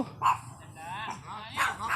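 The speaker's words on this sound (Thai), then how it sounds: "อย่าเห่าลูกอย่าเห่า" A dog barks near the shore of Nong Han lake at Ban Tha Rae during a snakehead fishing trip, giving a sharp bark, then a later pair of yips, mixed with someone talking.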